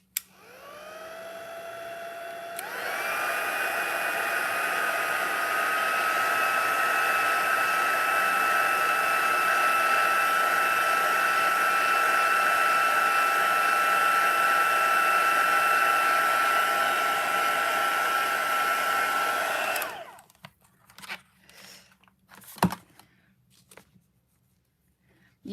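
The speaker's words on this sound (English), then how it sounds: "Quickly dry that off." A hair dryer blows steadily for about seventeen seconds to dry paint on a papercraft stocking project, starting abruptly and cutting off, followed by a few quiet handling clicks.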